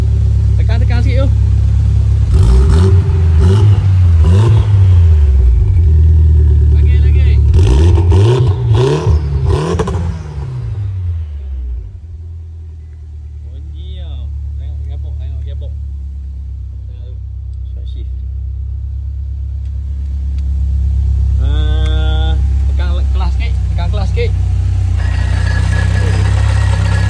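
A turbocharged Mitsubishi Evo X with a 4B11T engine and stock manifold revs up several times in loud rising and falling surges, then settles to a deep, rumbling idle, with people talking nearby.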